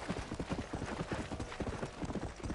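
Horse hooves clip-clop in a quick, even galloping rhythm while riding in a video game. The footfalls are close but fairly quiet.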